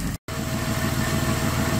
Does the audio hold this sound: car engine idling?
yes